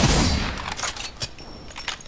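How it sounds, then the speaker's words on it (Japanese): Sniper rifle shots in the shooter game Apex Legends, a few sharp cracks spread over about two seconds following an opening burst of loud gunfire and impacts, with game noise in the background. "よっしゃ、狙撃させてもらおうか"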